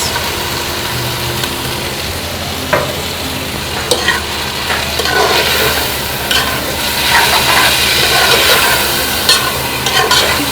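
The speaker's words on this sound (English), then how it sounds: "And you stir evenly" Food stirred in a hot pan after soy sauce is added, with loud steady sizzling and frying plus intermittent scraping and clinks of the spoon against the pan.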